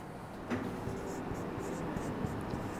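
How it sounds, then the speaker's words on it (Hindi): Notes being written on a board during a chemistry lesson: faint, soft scratching strokes against quiet room tone. "अब हम नोट डाल के एक चीज़ लिखते हैं।"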